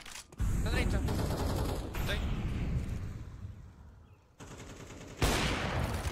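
Automatic rifle fire and bursts of shooting in Counter-Strike 2 during a competitive match, loud and near, with repeated volleys and a fresh burst near the end, with players talking over it.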